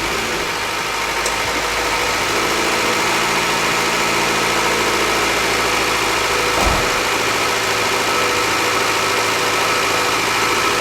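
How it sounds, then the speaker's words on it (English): A Honda B18C VTEC four-cylinder idles after a valve adjustment, a close, steady mechanical hum with a faint ticking texture and one brief thump partway through. "So I'll fire it up for you so you can hear how well I did"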